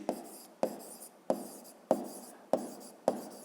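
A pen taps and scratches on paper while solving a fifth-grade math exercise, six evenly spaced strokes each starting with a sharp tick and trailing off, close and fairly quiet.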